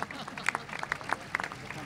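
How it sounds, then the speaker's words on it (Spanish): A festival audience applauds the stage crew, with scattered claps that rise and fall over continuous crowd noise and a speaking voice, at moderate loudness from some distance. "Un aplauso para los montadores,"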